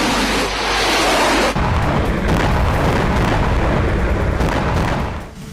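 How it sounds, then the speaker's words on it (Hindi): Heavy bombing in Gaza: a dense, roaring blast rumble fills the clip, with deep booming low end and sustained loud crackling debris noise, the opening burst shifting into a continuous rolling thunder of explosions with no speech. "आसमान से जबरदस्त बमबारी, जमीन पर विध्वंसक ग्राउंड ऑपरेशन।"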